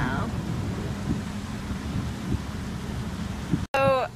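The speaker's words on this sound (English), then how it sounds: "it's raining like crazy outside right now" Heavy rain pours steadily outside in Maryland during flooding, a dense continuous hiss with a few low thumps, and a brief voice breaks in at the very end.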